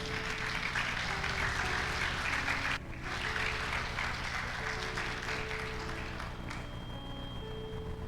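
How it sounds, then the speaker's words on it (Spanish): A church congregation applauds through a Spanish-language sermon, sustained even clapping with a short dip partway through, heard at moderate level. "Aplauda al Señor por eso."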